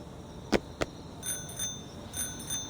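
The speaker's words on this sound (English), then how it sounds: "a familiar bike bell sounds nearby" A bicycle bell in Reverse 1999 rings nearby, two sharp dings followed by softer repeated chimes, clear against a quiet game ambience.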